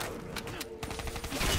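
Gunfire in the video game Black Ops 3, a quick rattle of automatic shots, moderately loud, with a voice briefly mixed in.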